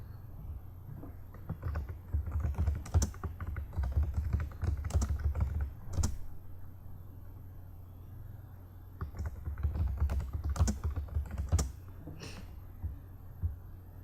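Someone types a free-text patient progress note on a computer keyboard, with steady bursts of close, light key clicks in two runs separated by a brief pause, sharper taps standing out here and there, no talking.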